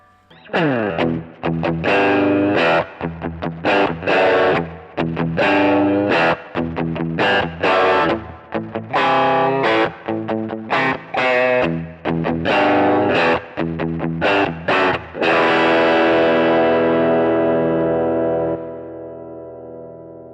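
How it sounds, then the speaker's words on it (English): Electric guitar played through a Halcyon Blue overdrive pedal used as a gain platform, with a run of crisp, driven picked notes and chords ending on a long sustained chord that rings out alone. "if I wanted to turn the gain back on this and use it as a pedal platform, turn on the Halcyon Blue"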